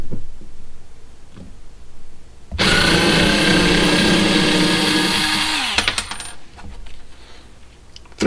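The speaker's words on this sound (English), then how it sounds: "Let's see about backing some screws out." A cheap Alibaba electric screwdriver backs out a screw with a loud, steady motor whine lasting about three seconds, starting abruptly and winding down, followed by faint clicks and handling noises.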